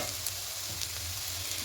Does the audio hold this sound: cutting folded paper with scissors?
no